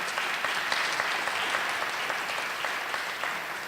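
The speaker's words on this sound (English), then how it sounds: "let's give him a round of applause" Audience applause for a third-grade student at a school anti-racism event, a steady even clapping that keeps up across the whole stretch at moderate loudness, without any voices heard over it.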